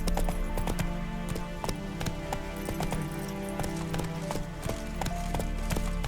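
Roach the horse gallops in The Witcher 3, with rapid, rhythmic hoofbeats close up and a steady rumble of movement underneath.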